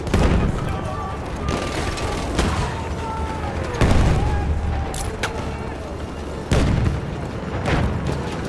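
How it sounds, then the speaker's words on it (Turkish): A thrown bomb explodes in heavy booms amid a chaotic World War I battle at Gallipoli in Battlefield 1. Gunfire and further blasts thud and crack repeatedly through a constant noisy din of combat. "Bomba fırlatıyorum! Dikkat eyleyin!"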